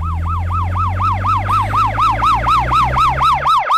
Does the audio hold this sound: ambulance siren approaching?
yes